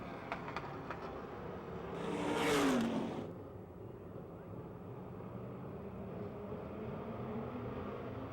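A race car roars past on the track at Pennsylvania Motor Speedway near Pittsburgh, its engine swelling loud for about a second before fading, with a lower engine drone from the rest of the field continuing in the background.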